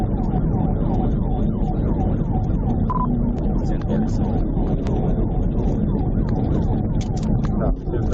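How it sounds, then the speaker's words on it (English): A police car siren wails continuously during a high-speed chase, its rising and falling tones cycling loudly over rumbling vehicle engine and road noise. "As officers pulled out and activated lights and sirens"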